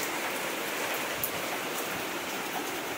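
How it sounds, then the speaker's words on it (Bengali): Heavy rain pours down steadily, a dense, loud, even hiss of countless drops on surfaces with no pause, close and continuous. "খুব জোর বৃষ্টি হচ্ছে বন্ধুরা।"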